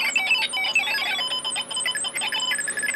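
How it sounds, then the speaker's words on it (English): A shrill electronic alarm from a Snap Circuits alarm IC warbles continuously, its high-pitched tones rapidly alternating in a fast, bright pattern, fairly quiet and heard on its own. "See, we get that sound effect out of the alarm IC."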